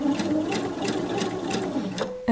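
Close and fairly loud, a sewing machine stitches a knit wrap dress with a 6 mm seam allowance, its needle thumping at an even, rapid pace across the whole stretch with no talking.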